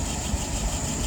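Steady low engine idle at about 700 rpm, a continuous even rumble with a faint mechanical whir above it, close and constant, no voices.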